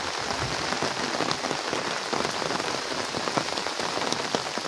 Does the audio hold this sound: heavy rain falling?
yes